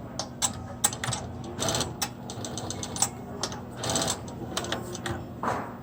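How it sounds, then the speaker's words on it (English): A sewing machine stitches a wire into a fabric face mask, giving close, rapid mechanical rattling in short bursts with brief pauses between runs. "Sewing that wire in place so that it doesn't shift during use or during laundry."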